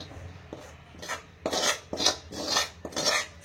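Food is scraped from a wide kadai into a metal basin with a spoon, giving repeated rasping scrapes and metallic clatter in uneven bursts, close and fairly loud, with no talking.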